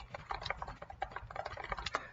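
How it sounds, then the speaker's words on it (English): Fast, steady typing on a computer keyboard, a dense patter of close clicks running throughout with no voices. "Sorry for the typing."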